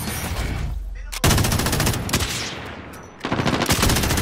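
Enemy automatic gunfire in Call of Duty: Modern Warfare Warzone, delivered in loud, close, rapid bursts split by short gaps, with faint voices underneath.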